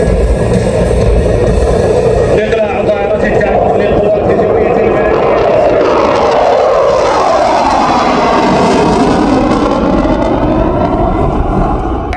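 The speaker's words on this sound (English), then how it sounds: "Saudi Air Force, we give you the Eurofighter Typhoon." A Saudi Air Force Eurofighter Typhoon jet passes at an airshow, its loud, steady engine roar sweeping through the whole stretch with a rising and falling tone as it flies by, an announcer's amplified voice heard over it.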